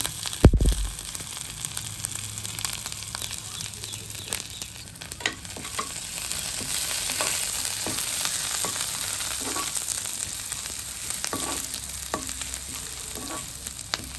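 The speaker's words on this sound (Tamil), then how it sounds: "கடுகு போடுங்கோ. சேர்ப்போம். வெங்காயம் போடுவோம், கருவேப்பிலை போடுவோம்" Mustard seeds, onion and curry leaves frying in hot oil in a pan, a steady close sizzle with crackling pops and occasional stirring scrapes, no talk.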